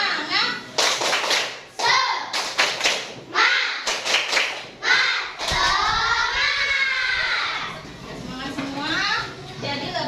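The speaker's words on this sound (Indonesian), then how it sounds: "Coba tepuk semangat." Schoolchildren in a fourth-grade class doing a rhythmic spirit clap in bursts of sharp claps, with children's voices chanting and calling out between and over the patterns.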